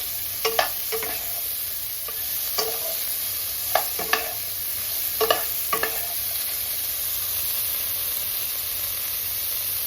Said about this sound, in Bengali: ব্রকুলি আর ফুলকপি একসাথেই রান্না করছি